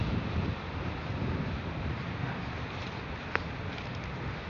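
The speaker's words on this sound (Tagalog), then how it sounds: "Malakas na yung hangin" Strong wind roars steadily into the microphone, a dense, constant rumble with a single faint tap near the end.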